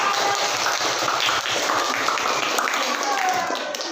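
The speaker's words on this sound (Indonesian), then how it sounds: "Tepuk tangan untuk kelompok 5" A classroom audience claps for a student group, a dense, continuous wash of hand claps filling the room with a voice partly mixed in.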